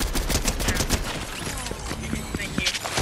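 Rapid bursts of gunfire in a Fortnite match, Mammoth Pistol shots among a dense, busy fight with many sharp cracks close together throughout, some voices faintly under the noise.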